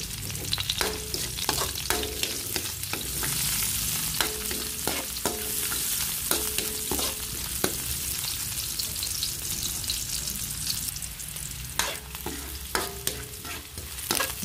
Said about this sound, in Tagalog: Isunod ko ng sibuyas.